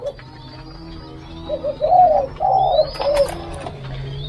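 Young doves and squabs in a breeding aviary of French pied doves give soft, repeated coos in a few short phrases, rising mid-clip over a steady low background hum, fairly close and without talk.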